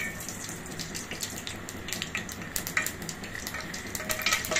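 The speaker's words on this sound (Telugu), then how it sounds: "స్టవ్ వెలిగించి కడాయి పెట్టేసి ఆయిల్ వేసి కొద్దిగా ఆవాలు," Mustard seeds fry in oil in a kadai on a lit stove, a dense close sizzle with crackling pops that rises slightly toward the end.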